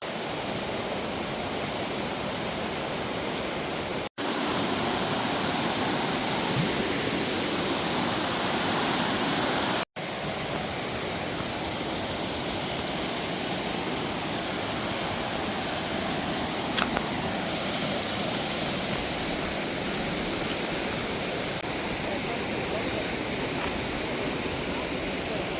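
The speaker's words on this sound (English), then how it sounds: "There's this whole rock wall and a loud, gorgeous river" A loud, steady roar of a rushing river beside a rock wall near Laurel Falls on the Appalachian Trail fills the clip without letup, briefly cut twice.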